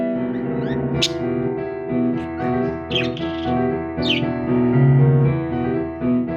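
Piano music keeps playing indoors while a pet bird chirps along, its short high calls breaking in every second or so above the chords.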